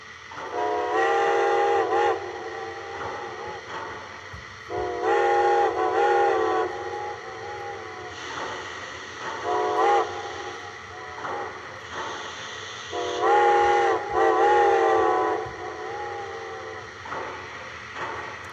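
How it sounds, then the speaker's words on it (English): A METCA custom-run Berkshire model locomotive sounds its ghost whistle in several long, chime-like steam whistle blasts, spaced apart and repeated, over a faint mechanical background with no talking. "one of the bonus features of this METCA engine is the ghost whistle."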